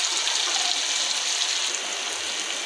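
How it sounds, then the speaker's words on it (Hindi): Water poured from a glass into a pan of frying chicken qorma gives a steady broadband splash and sizzle, loud and continuous for under three seconds, with no talking. "अब हम इसके अंदर 1 गिलास पानी लगाते हैं।"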